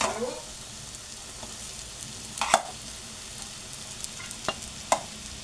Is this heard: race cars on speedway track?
no